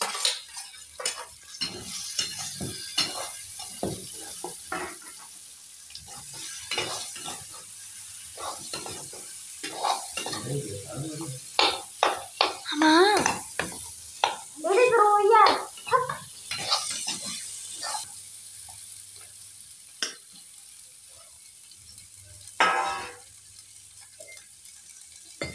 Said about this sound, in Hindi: और ये डाल दिए आलू,